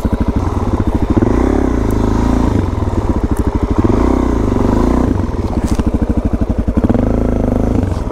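Off-road motorcycle on SM (supermoto) tires, its rear wheel spinning as the engine revs in steady pulsing surges with clattering, close and loud throughout.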